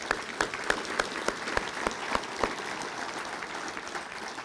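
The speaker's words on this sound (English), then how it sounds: "I think we owe them a round of applause." An audience at an annual meeting in Wilmington gives a round of applause, dense clapping from a roomful of people that starts with sharp claps and gradually thins out.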